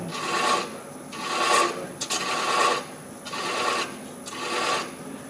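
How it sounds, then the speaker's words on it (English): Scraping with a chaser on a wood lathe as a woodturner works spinning wood, giving repeated rasping passes that swell and fade about once a second, close and fairly loud, with no talking. "Now I'm scraping more than I am cutting."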